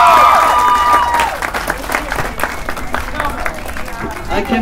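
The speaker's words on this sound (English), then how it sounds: "Let's give the seniors, class of 2014, a big round of applause for the work they did here" A high school crowd applauds the senior class after a disaster drill, a burst of clapping and cheering that swells at the start then thins out, with a voice talking over it.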